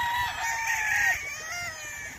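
A battlestag national banded rooster crows once at close range, a single drawn-out, wavering call.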